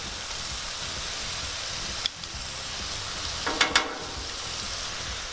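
Garlic butter with Romano cheese melting on a Blackstone griddle, giving a steady soft sizzle with a couple of brief sharper crackles and pops near the end.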